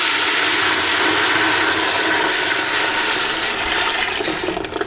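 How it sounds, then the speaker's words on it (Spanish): Tomato broth poured into a very hot pot for albondigas soup gives a loud, steady hiss and sizzle with rushing liquid, sustained and close for several seconds, easing slightly toward the end. "Que esté bien caliente porque a mí me gusta que chille."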